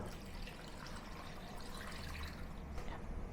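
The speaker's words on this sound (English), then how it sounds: "Then add the soaking liquid for the mushroom that I have reserved, and more water" Mushroom soaking liquid and water pour steadily into a pot of Chinese-style chicken stew, a faint continuous trickle and splash heard close up with no talking.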